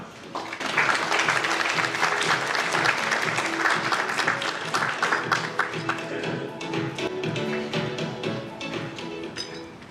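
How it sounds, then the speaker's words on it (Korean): Applause from an audience at a Korean corporate showcase for a digital asset trading platform, as a presenter is welcomed to the stage: dense, steady clapping that stays loud for most of the span and thins toward the end. "박수로 맞이해 주시기 바랍니다."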